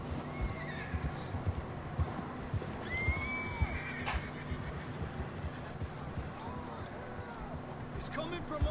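Horses in a video game clop and gallop close by, with repeated whinnies and neighs over continuous hoofbeats, mixed with voices and outdoor background sound.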